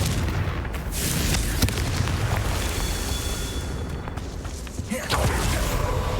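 Confringo fire-blast spells go off in the video game Hogwarts Legacy, a run of loud booming bursts over a constant rumbling game backdrop, with one sharp impact and a second burst near the end.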